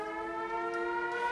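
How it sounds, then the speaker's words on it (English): A steady, wailing siren from the film The Shawshank Redemption (1994) holds a sustained tone, loud and continuous with no other sounds. "Sirens."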